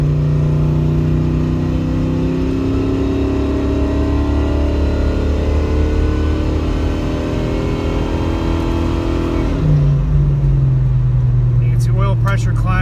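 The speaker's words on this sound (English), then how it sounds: "going to put it in second gear and just kind of let it work its way up the red line" A car engine climbs steadily in second gear toward the red line, a loud close drone rising in pitch for about ten seconds before dropping as the revs fall, with a voice talking over it.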